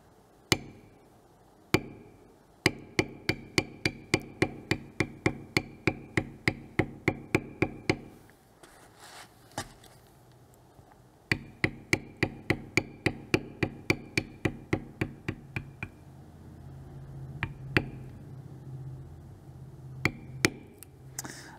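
A bevel tool is struck with a mallet on leather while an earring piece is tooled, giving long runs of quick, evenly spaced sharp taps, close and crisp, with short pauses between bursts.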